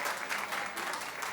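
Studio audience clapping on a celebrity talk show, a steady, full burst of many hands applauding at close range without a break, no voices over it.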